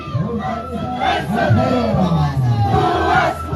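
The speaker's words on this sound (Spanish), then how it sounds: "Las autoridades se ponen de pie y aplauden a toda esta..." Crowd at an anniversary ceremony cheering and clapping, a loud, continuous roar of voices with shouts rising over it for the whole stretch.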